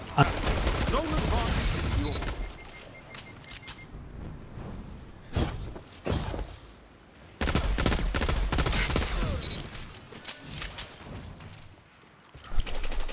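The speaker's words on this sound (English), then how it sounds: "I'll also use the shotgun" Shotgun blasts in the game Destiny 2 come in sharp, scattered bursts mixed with other gunfire, loud and fairly close, with quieter stretches between clusters and a voice talking at times.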